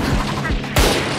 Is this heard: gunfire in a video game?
yes